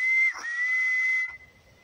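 A single sustained, piercing whistle in the Silbo Gomero whistled language renders the word "maga", with a brief dip partway through before cutting off, close and clear with no talk.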